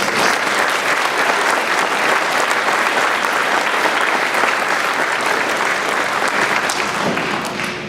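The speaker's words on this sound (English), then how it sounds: "Can we give them all a round of applause, please?" A school audience at a Blue Ribbon ceremony claps in a long, steady round of applause, full and close, thinning slightly toward the end.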